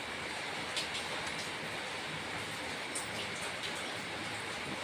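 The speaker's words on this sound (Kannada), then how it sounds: "ಮಳೆ ಬರ್ತೈತೆ ಜೋರಾಗೆ." Heavy, steady rain pours down outdoors, a dense, even hiss of falling water that fills the whole stretch without pause.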